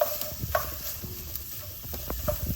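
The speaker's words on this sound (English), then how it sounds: "There's some nice sizzle going." Mirepoix and onions sizzling in a pan over an open hearth fire, a soft continuous frying hiss with occasional stirring scrapes and light pops, fairly quiet and without talk.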